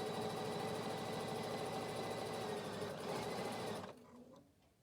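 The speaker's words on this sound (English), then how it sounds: "I don't really need a leather needle for doing this bit, but we'll see how it sews" A sewing machine stitching leather with a regular needle: a loud, close, rapid mechanical chatter runs steadily for about four seconds, then stops abruptly and leaves a faint tail of small clicks.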